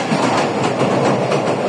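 A moving train rattles and jolts steadily along the tracks, with continuous close clickety-clack and carriage rumble throughout and no voices.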